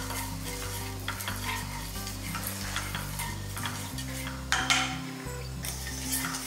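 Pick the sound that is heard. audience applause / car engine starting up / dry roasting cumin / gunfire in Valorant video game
dry roasting cumin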